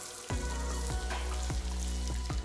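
Chopped onions, about a cup and a half, drop into hot mustard oil and burst into a loud, steady sizzle, with a few sharp crackles and pops recurring through the frying.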